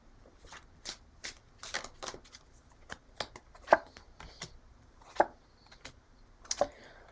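Tarot cards are shuffled and drawn in a quiet room, with soft riffling rustles broken by several crisp, close slaps and flicks spaced a second or two apart.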